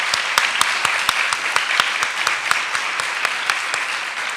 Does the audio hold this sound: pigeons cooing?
no